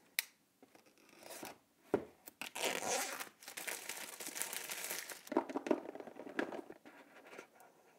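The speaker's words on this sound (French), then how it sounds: "on va tout de suite déballer le smartphone pour voir à quoi il ressemble" Packaging crinkles and tears as a Xiaomi Redmi S2 smartphone is unboxed, with bursts of rustling plastic and paper, scratchy sliding, and a few sharp clicks, close and continuous over several seconds without speech.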